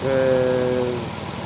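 A 2003 Chrysler Concorde 3.5 V6 engine runs steadily with a low, even hum, fairly quiet and close by, with no talking.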